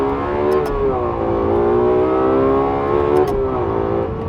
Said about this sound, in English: let's take one run to red line